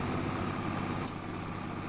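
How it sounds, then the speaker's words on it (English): Tractor engine in the Farming Simulator 25 video game, a loud, constant low droning roar that fills the clip without pause. "if this tractor wasn't loud earlier, it's loud now."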